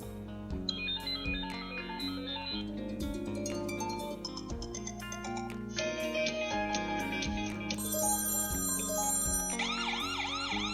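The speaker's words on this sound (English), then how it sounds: "There are 7 ringtones to choose from here." A COOAU security camera app cycles through its notification ringtones: a run of loud electronic tones, some steady beeps and others siren-like wails, following one another without pause.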